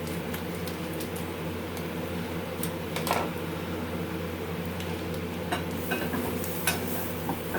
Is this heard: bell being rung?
no